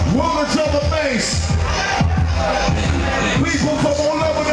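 Large crowd at a World of Drum&Bass night in Miami, steady loud hubbub and babble filling the room with scattered cheers over a thumping bass-heavy backdrop.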